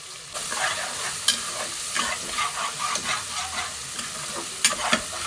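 Onion, capsicum and curry leaves sizzle and fry steadily in a pan for a coconut rice and mutton curry, with stirring scrapes and occasional sharp clinks of a spoon over the continuous hiss.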